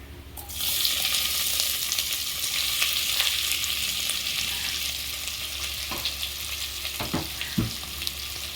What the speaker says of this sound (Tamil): இப்போ வெங்காயத்தை எண்ணெயில் போட்டு நல்லா வதக்கிக்கணும்.